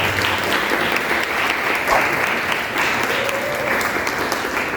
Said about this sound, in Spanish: Un aplauso para Carolina.